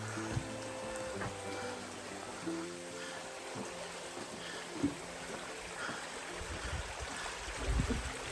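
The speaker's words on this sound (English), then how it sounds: "Good water flow here too." Mountain stream water flowing along the Appalachian Trail after heavy overnight rain, a steady low rushing wash with a few louder splashes, close by and without talk.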